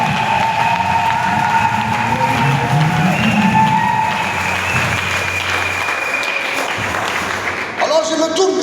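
Wedding congregation at a church nuptial blessing applauding, a loud sustained wash of clapping mixed with crowd noise and a voice talking over it, easing off near the end.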